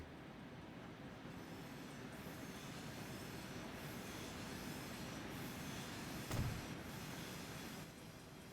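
A freight train in Transport Fever 2 rumbles along steadily with a low, continuous rolling drone and a brief metallic clank partway through; no talking.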